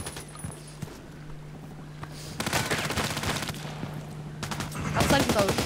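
Gunfire in the video game Contract Wars, scattered single shots giving way to sustained loud automatic bursts that intensify near the end, with a steady tone humming underneath.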